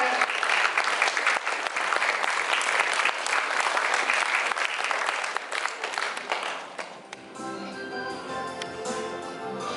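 Loud, dense applause from a crowd at a lyceum anniversary celebration, sustained for several seconds before thinning out as music comes in underneath.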